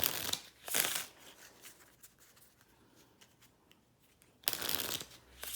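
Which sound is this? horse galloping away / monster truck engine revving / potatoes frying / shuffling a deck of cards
shuffling a deck of cards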